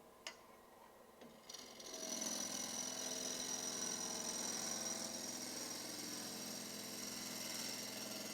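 A wood lathe spins a pottery vessel blank at about 1800 RPM. After a few quiet clicks it settles into a steady, whirring hum that holds evenly to the end.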